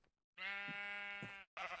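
A sheep in the Minecraft video game lets out a single loud, sustained bleat with a wavering tone, framed by brief silence and followed by the start of another bleat.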